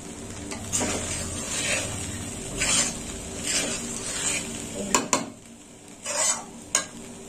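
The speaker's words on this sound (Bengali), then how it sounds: "ভাতটা এইভাবে ভেজে নিতে হবে মশলা দিয়ে।" Rice fried with spices in a pan gives a continuous close sizzle, with rhythmic spoon stirs and several sharp metallic taps against the pan toward the end. No one speaks.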